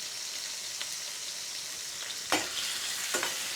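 Onions and tomatoes frying gently in a pan for a BIR-style rogan gosht curry, a steady soft sizzle throughout with two brief louder stirring scrapes near the end, no talking.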